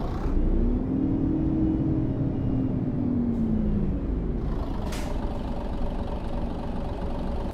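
A Mercedes-Benz Travego coach in Euro Truck Simulator 2 idles with a steady low engine rumble, then a brief air-brake hiss follows, all heard up close.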